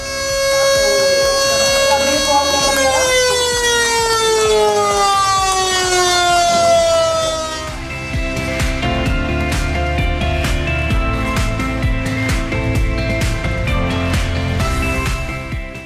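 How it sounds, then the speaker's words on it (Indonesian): A siren sounds at the inauguration of an LNG filling station and cargo dock in Bontang, a loud, sustained wail that slides downward in pitch and then settles into a steady harsh tone, alone for its whole length. "sirine."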